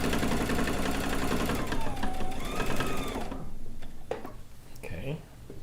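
A domestic sewing machine runs steadily in a fast, even stitching buzz while free-motion quilting along the seams of fabric strips, then cuts off partway through, leaving a few soft handling clicks and a brief voice.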